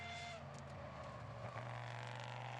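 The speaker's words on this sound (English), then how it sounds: "All of these cars are making a lot more noise in the corners, aren't they? They're all, lots of tyre squealing" Classic race cars lapping the Estoril circuit, engines droning and tyres squealing through corners, a continuous mid-distance roar with shifting pitch as cars pass.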